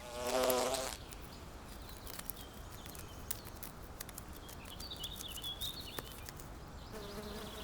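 Wasps and hornets buzz close by in short passes, with a louder burst at the start and faint flickering buzzes continuing through the rest.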